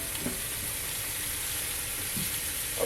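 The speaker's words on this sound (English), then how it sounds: "I put a big onion underneath here, put one on the end, and we raised the steak up off of direct heat" Tomahawk steak and onions sizzling over heat, a steady, moderately loud frying hiss with a few faint pops and crackles.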